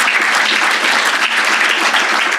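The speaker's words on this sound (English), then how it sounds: "That's another round of applause." Audience applause at a cancer clinical trials talk, dense and steady clapping from a crowd heard alone for a couple of seconds.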